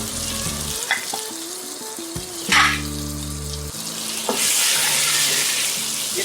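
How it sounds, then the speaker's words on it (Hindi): Red chili powder, salt and turmeric sizzle in hot oil in a pan while cooking mutton paya with goat trotters, a steady frying hiss with stirring scrapes, louder and brighter toward the end, with a brief low voice early on. "इसको भी 1 मिनट तक हम फ्राई करेंगे।"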